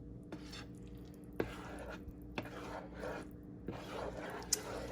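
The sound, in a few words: stirring vegan chili mac with rotel in a pot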